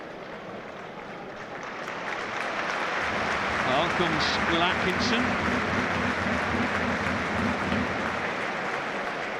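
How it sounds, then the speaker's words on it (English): Bradford City football crowd at a match against Port Vale breaks into a broad round of applause that swells and holds, distant and diffuse, under steady commentary voices. "What a surprising round of applause from the Bradford."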